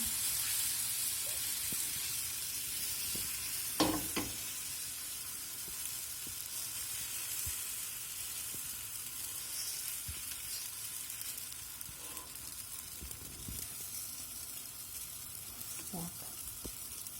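Steady sizzling of zucchini batter frying in a pan, a soft constant hiss with a few small clicks and taps.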